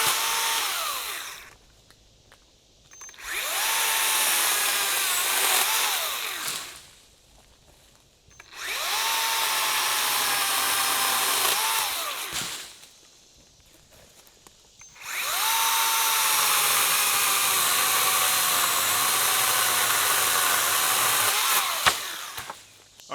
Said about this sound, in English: Just a quick, short video on the brand new 80-volt pole saw from Bad Boy